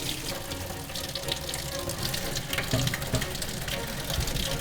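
Running water from a tap splashes steadily over an old gadget from about a century ago as it is washed, a continuous broadband rush with a few faint clinks and knocks.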